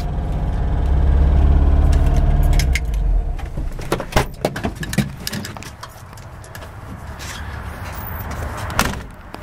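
A 1973 VW Wild Westerner camper bus engine runs with a loud low rumble, then drops to a quieter idle under a series of sharp clicks, clunks and jingling rattles nearby.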